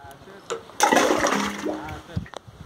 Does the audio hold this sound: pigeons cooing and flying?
no